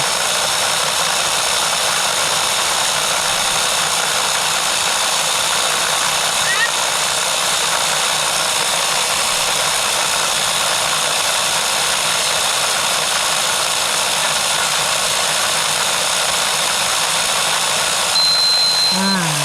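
A Tamiya Mini 4WD car runs steadily on a Tamiya 15183 speed checker, giving a continuous high whirring motor drone at close range that holds constant for the whole stretch, with no talking.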